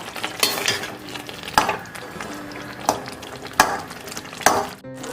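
Bread halwa cooking on low flame in a pan, stirred with a spoon that scrapes and clinks at intervals over a soft steady sizzle, with no talking.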